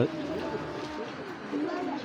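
Black checker racing pigeons coo in a loft, a low murmuring burble that runs through a short stretch beneath someone talking nearby.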